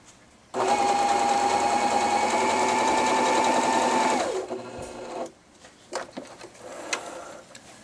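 A domestic sewing machine running a scallop stitch with a narrow stitch width, a loud steady motor whir and needle chatter lasting about four seconds, then stopping, followed by a few faint clicks and handling knocks.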